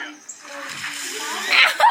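Very cold water poured out in a quick splashing gush that builds toward the end, close and fairly loud, with voices chattering around it.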